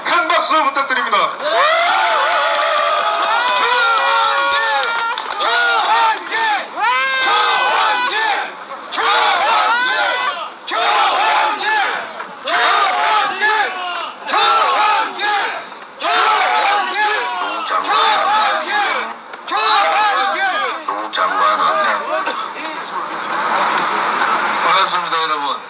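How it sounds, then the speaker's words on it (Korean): A crowd at a political party rally in front of the National Assembly roars with loud, continuous cheering and shouting for about 25 seconds, many voices overlapping throughout. "큰 박수 부탁드립니다."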